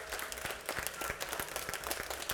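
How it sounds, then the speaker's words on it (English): Audience applause fills a school band spring concert hall, steady crowd clapping with scattered sharp claps throughout, fairly faint and continuous with no talk. "Give him another round of applause."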